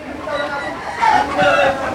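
Chickens on a game farm during rain, clucking and calling close by over a continuous wash of rainfall, with a voice speaking briefly alongside.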